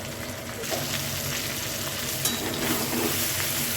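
Potatoes and green banana with spices frying in a pan for a vegetarian curry, a steady close sizzle with occasional stirring scrapes throughout.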